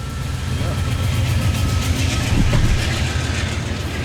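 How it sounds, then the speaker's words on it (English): Passing train rumbling and clattering close by, a loud continuous roar with rhythmic wheel clicks, heard under people talking. "keep getting interrupted by these trains"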